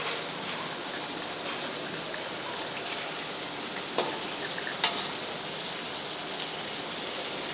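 Chicken wings fry in hot oil: a quiet, steady crackling sizzle with a couple of sharper pops, heard alone.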